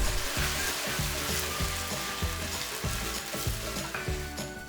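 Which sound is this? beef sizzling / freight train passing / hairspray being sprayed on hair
beef sizzling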